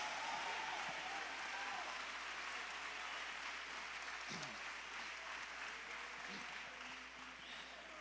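A congregation claps loudly during a Spanish-language church service, a dense, sustained wash of applause that holds for the full stretch and tapers slightly near the end.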